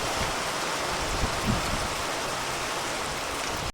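Heavy monsoon downpour with large drops, a dense, steady roar of rain hitting surfaces, loud and unbroken for several seconds before cutting off abruptly.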